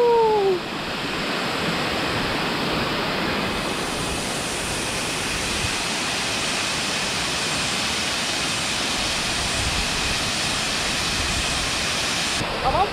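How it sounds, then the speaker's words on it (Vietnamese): Tiên waterfall at Đèo Gió in Xín Mần, Hà Giang, roars as a dense, steady rush of falling water, loud and continuous from start to finish. "cái thác ở đó ra sao."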